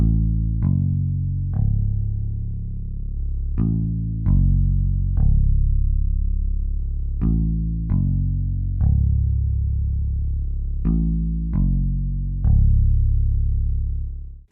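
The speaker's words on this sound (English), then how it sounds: "I layered these two basses together. One is kind of like a sub bass from Serum, and then the other one is kind of like a real guitar bass" Layered bass made from a Serum sub bass and a real guitar bass, a loud, deep distorted line of sustained notes with sharp plucked attacks at a steady, unhurried rhythm, alone with no talking.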